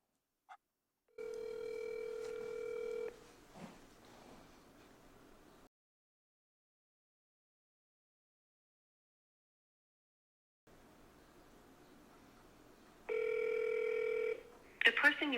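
An outgoing phone call rings through the line, two long electronic ring tones separated by a pause and a stretch of silence, then another tone at the end, with faint speech in between.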